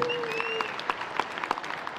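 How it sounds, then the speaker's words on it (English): Audience applause for a basketball coach being introduced at a FIBA U17 Oceania Championships all-star presentation, heard as a light, fairly distant patter of claps with a few sharper individual claps and a faint tone early on. "Let's give him a big round of applause."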